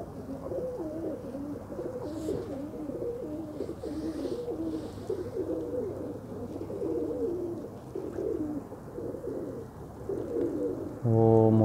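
A flock of pigeons coos steadily, many soft overlapping calls close by, with a low background rumble throughout.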